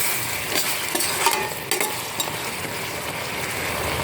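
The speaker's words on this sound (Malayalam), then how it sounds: "കായപ്പൊടി ഇളക്കി കൊടുക്കാം" Asafoetida powder being stirred into frying lime pickle in a pan, a steady close sizzle with scattered scraping and clinking strokes of the spoon, no talk.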